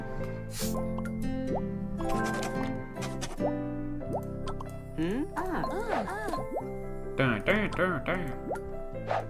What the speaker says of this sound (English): The little voice sound effects are funny.